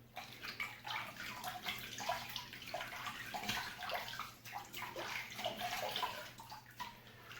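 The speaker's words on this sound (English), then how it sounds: "Let me rinse." A shaving razor is rinsed in water, giving a continuous close splashing and sloshing with small gurgles, fairly quiet and with no talking.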